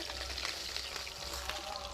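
Pieces of katla fish fry in hot oil, giving a faint, even sizzle with soft crackles throughout and no talking.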